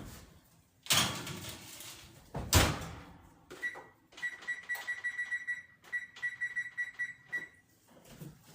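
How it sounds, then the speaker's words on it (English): An oven door swings open and bangs shut with two loud, close thuds and rattles, followed by a run of rapid electronic beeps from the oven panel in two bursts. "Hold on, I'm just going to put these in the oven."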